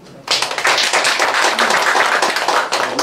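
Meeting attendees applaud together, a dense burst of clapping that starts abruptly and stays loud and steady for about three seconds.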